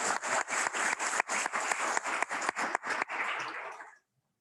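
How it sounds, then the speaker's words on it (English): An audience applauds award winners at an engineering academy ceremony, a steady pulsing clatter of many hands clapping that continues for a few seconds and then cuts off abruptly. "Let's give them a round of applause."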